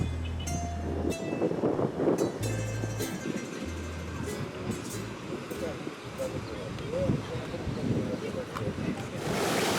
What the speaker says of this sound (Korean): 여섯 개의 풍차가 올려다 보이는 바닷가의 파도 소리가 여간이 아니다